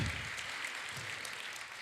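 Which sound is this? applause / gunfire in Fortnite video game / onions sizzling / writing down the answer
applause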